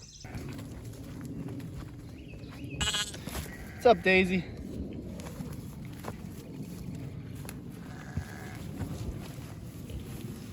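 Sheep bleat a few times in a short cluster amid outdoor background noise, with a person speaking briefly nearby.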